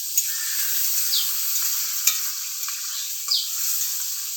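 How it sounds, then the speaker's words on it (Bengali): Onions fry in hot oil with bay leaves and a dried chilli, a bright steady sizzle with a few stirring scrapes and clicks, no one talking. "পেঁয়াজগুলো ভাজা হোক"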